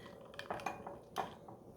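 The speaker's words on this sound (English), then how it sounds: "take a little whisk and add in your milk. Whisk it in." A small whisk stirs milk into golden milk spices in a cup or pan, producing faint, irregular metallic clinks and soft liquid swishes heard up close and alone.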